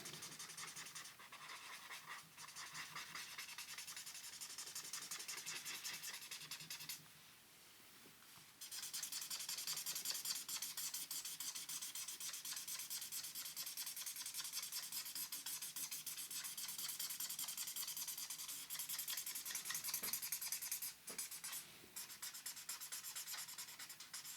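A colorless blender pencil rubs steadily across paper, a close, continuous scratchy swishing that runs almost nonstop, pausing briefly once partway through.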